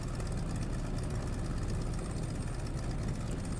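Steady low drone of a PT-17 Stearman's radial engine idling and rumbling as the biplane taxis in Microsoft Flight Simulator, continuous and even with no voices.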